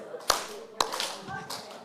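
Two sharp hand claps ring out in a group exercise class at a lecture on aging, followed by faint scattered clapping and murmuring voices.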